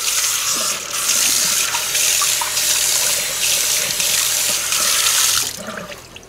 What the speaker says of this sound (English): And now we can just rinse out our sink and rinse off our hands.